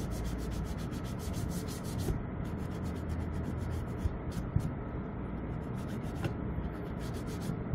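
Surfaces being wiped clean before gluing: a steady, close rubbing and scrubbing sound of cloth dragged over a hard surface, continuous throughout with slight rhythmic strokes and no talking.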